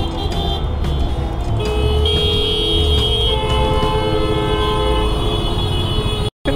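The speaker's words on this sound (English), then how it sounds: "Why do you have to f***ing honk like that?" Car horns honk repeatedly amid dense, loud Mumbai traffic noise, with overlapping tones sustained over several seconds.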